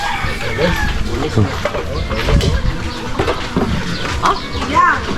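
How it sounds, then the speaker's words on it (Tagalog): Chickens cluck and squawk close by as they are fed on a Filipino farm, busy overlapping calls with scattered chirps, under nearby voices talking. "Napakain ng manok."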